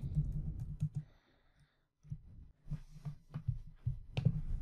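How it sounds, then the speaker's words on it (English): Close keyboard typing: irregular bursts of light key clicks with a short pause midway, over a low steady hum. "Typing it up nicely."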